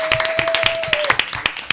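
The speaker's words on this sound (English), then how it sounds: "Clap it up once again for our guests." Studio guests clapping in scattered, uneven claps that thin out toward the end, with a brief tone sounding underneath and faint voices in the room.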